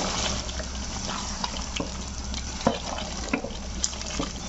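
A spoon stirs Pakistani-style chicken in a pan, giving soft, continuous wet scraping and sloshing with a low sizzle, plus a few sharper clinks against the pan. It is fairly quiet and heard without talk.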